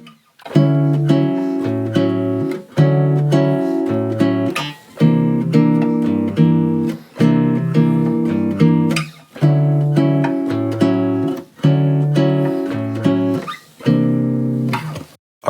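A bossa nova rhythm played on guitar, syncopated chord patterns repeating steadily in roughly two-second cycles, close and alone for about fifteen seconds.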